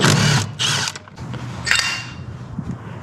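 Removing T50 Torx bolts from a BMW M4 seat, heard as close bursts of a tool working the bolts with mechanical clatter and handling noise in between.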